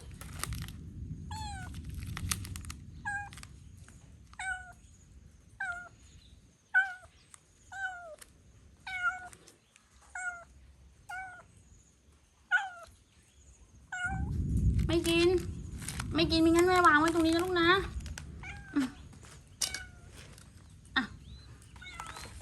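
Cat meowing inside an abandoned house: a steady series of short, clear meows repeating every second or so, then a louder, busier stretch of rapid cries over a low rumble, with a voice heard faintly in places.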